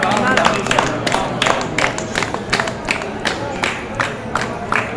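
A crowd claps together for Ram at a religious gathering, a run of sharp, fairly regular claps close by, mixed with voices.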